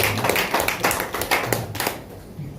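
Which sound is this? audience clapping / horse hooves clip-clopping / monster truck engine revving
audience clapping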